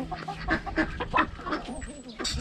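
Ducks feeding on grain alongside a rooster in a backyard poultry yard, giving a quick run of close, overlapping quacks and honks.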